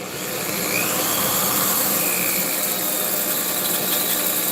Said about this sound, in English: We'll go a little slower. Let the drill do the work.